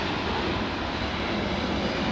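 Airliner touching down at LAX, a loud, steady roar of jet engines filling the whole clip with broadband rumble and no pauses or voices.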